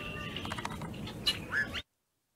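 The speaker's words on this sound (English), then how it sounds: "A group of yellow-headed blackbirds captures our attention and excitement completely." Yellow-headed blackbirds calling at a feeder, a few faint, scratchy chirps and buzzy notes over soft outdoor background before the sound cuts off.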